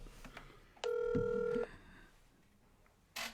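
A single electronic telephone ring tone, a steady tonal trill lasting under a second, heard fairly close against quiet background with a few faint clicks around it.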